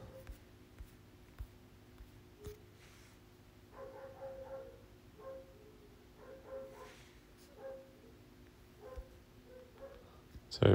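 Dogs bark in the background during a mobile puzzle-battle game session, a few faint, scattered yaps and woofs recurring behind quiet game sounds, with no one talking over them.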